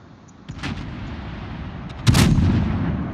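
Incoming high-explosive shell fire from a Mogami cruiser in the World of Warships naval game: two loud booming blasts, the second heavier and followed by a sustained rumbling roar, no voices.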